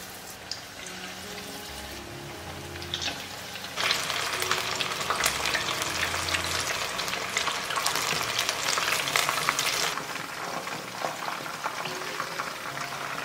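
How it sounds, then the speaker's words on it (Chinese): Marinated chicken wings in a scallion-flecked batter coating hit oil at medium heat for red fermented bean curd wings, starting as a soft bubbling that bursts into a loud, steady, crackling sizzle after a few seconds and keeps going without voices. "然后我们把腌好的鸡翅裹上1层炸粉，油温5成热的时候就可以放进去炸"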